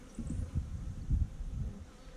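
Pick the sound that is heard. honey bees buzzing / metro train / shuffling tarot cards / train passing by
honey bees buzzing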